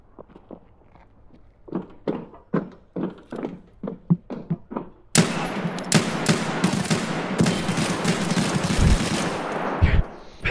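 Gunfire in the video game Escape from Tarkov: a run of separate single shots gives way to a dense, loud burst of sustained automatic fire with sharp cracks, continuing to the end.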